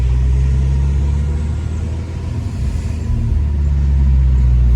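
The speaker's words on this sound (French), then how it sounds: "Donc l'échappement est quand même assez discret, hein." A Volkswagen Golf 6R driving along, its engine and restrained exhaust making a steady low, droning rumble from inside the car, close and even, with a slight dip and swell in level and no talking.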